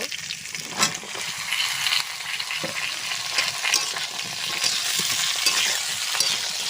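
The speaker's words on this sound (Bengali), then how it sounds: "আপনারা মনে করলে এই সবজিগুলো এক একটা করে ভাজতে পারেন, আমি একসঙ্গে ভেজে নিচ্ছি।" Eggplant and greens stalks frying together in a pan, a steady close sizzle with bursts of crackle and scraping stir sounds throughout, without speech.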